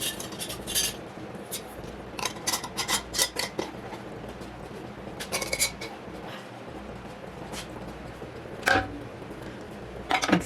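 Hot glass canning jars and metal lids clink and scrape while being handled for canning in a home kitchen, with scattered sharp rattles and taps at close range, some louder knocks near the end.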